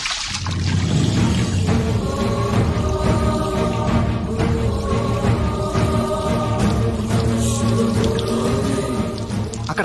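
Water running steadily beneath someone's feet, a continuous close splashing flow heard alone throughout.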